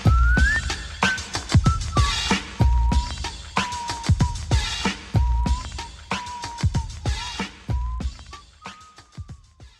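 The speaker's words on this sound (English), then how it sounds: "it's a lot more common for people to just imitate his whistling" A clear whistled melody carries over a steady beat of sharp percussive hits, the tune sliding between sustained notes at a moderate, even tempo.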